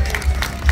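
A crowd at the Jakarta Melayu Festival applauds Bang Ges in a brief, steady burst of clapping that fills the space.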